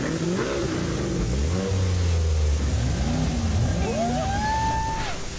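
Car engines revving at the Festival Interlagos motoring event in Brazil, several loud rising and falling revs overlapping with a deep rumbling idle, close and powerful.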